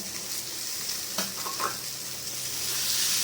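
Prawns with fried potatoes and fried cauliflower stirred in a pan with ghee for a prawn curry: a loud, continuous sizzle with a few brief scraping stirs near the middle, no voices.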